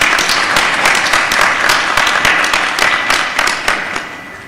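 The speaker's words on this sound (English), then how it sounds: "Can I request another round of applause for the reaffirmation?" Sustained applause from an audience at a university graduation ceremony, a dense steady wash of many hands clapping at close range that gradually thins and fades toward the end.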